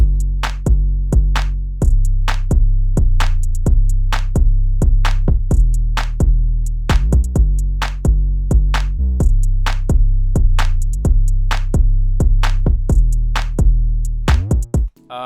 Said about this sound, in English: All together, these are what the drums are gonna sound like.